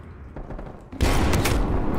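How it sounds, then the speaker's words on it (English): Gunfire in the video game Black Ops Cold War: quieter distant shots at first, then a sudden loud close burst of rapid heavy firing that continues to the end. "Dang, that gun sounded so gnarly."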